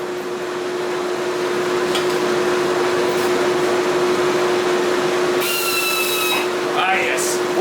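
A knife-forging forge heating steel roars as a steady, loud blower hum with a strong tonal drone, joined near the end by a brief metallic ringing clatter; no talking.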